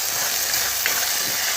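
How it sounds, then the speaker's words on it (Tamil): Tomatoes sauté in a pan for tomato soup, producing a brief, even, close hiss of sizzling with a faint bubbling texture. "வதங்கிட்டுருக்கு."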